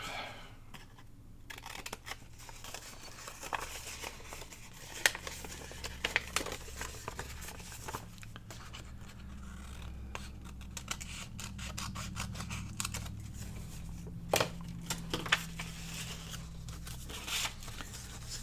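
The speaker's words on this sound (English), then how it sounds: "let's cut these little pieces off" Scissors cutting small pieces of paper for scrapbook baggie pockets, a series of faint close snips and crisp paper rustles at irregular intervals against a quiet background.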